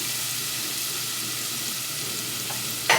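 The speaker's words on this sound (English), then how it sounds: "as soon as it starts to sizzle, make sure you don't burn the garlic" Continuous hissing sizzle of garlic frying in a hot pan, steady and close, with a brief scraping stir near the end and no talking.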